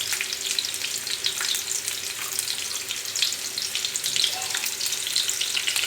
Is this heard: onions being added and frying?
yes